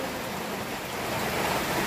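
Heavy rain pouring down in a dense, steady broadband hiss that swells slightly louder toward the end, with no voices.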